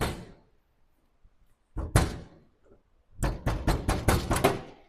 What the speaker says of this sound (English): Let's try closing the door trick.